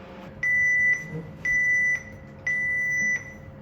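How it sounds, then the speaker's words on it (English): A yogurt maker beeps as it reaches 83 Celsius: three long, clear electronic tones about a second apart, each lasting half a second or more, loud over a faint background hum. "So it just reached 83 Celsius and heard a beep."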